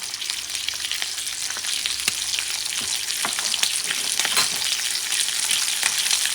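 Pieces of bone-in chicken frying in a pan for Cajun-style gumbo, giving a dense continuous sizzle with scattered crackles and pops, close and without speech.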